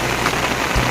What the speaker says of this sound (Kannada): ಎಲ್ಲ ಕಡೆ ಮಳೆ ಹರಡಿಕೊಂಡಿತು